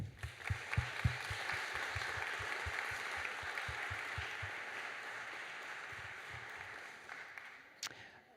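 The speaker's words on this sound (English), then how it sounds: "I'd just like to give it a round of applause for everybody." Audience applause fills a graduation celebration for a biochemistry program, a steady wash of many hands clapping at moderate distance, with a few sharper individual claps up close, tapering off near the end.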